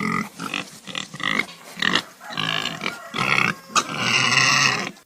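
A voice imitates the grunts of a pig-like Gamorrean guard, a run of loud, rough snorts and squealing grunts in short bursts, ending in one longer drawn-out growl, with no other talk.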